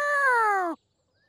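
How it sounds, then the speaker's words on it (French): A cat in a cartoon street scene lets out one clear, drawn-out meow with a falling pitch, then cuts off into silence. "Oh, les chats."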